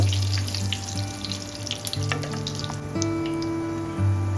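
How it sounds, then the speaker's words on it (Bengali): Cardamom, cinnamon and cloves frying in hot oil in a pan make a continuous crackling sizzle. A steady low hum runs under it, and there is no talk. "তেলটা গরম হয়ে গেছে এখানে কিছু মশলা নিয়ে নিয়েছি এলাচি দারচিনি লবঙ্গ দিয়ে দেব একটু ভেজে নেব"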